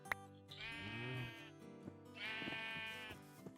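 A sheep in the Minecraft video game (version 1.14) bleats twice, each a drawn-out wavering baa that is clear and close, separated by a short pause, with faint game clicks around them.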